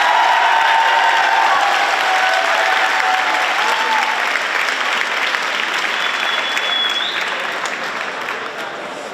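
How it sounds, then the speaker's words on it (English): A big crowd at a school rally applauds and cheers, a loud, continuous roar of clapping with whoops and a brief whistle, gradually fading toward the end. "Everyone, let's hear a round of applause for Nick Kamen."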